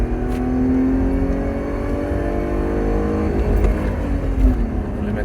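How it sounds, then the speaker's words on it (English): Mercedes engine revving hard and climbing steadily in pitch until it bangs into the rev limiter, a loud sustained drone with rising harmonics and no talking. "It's easy to hit the limiter in this car because it just keeps pulling and sounding better and better until you hit the red line."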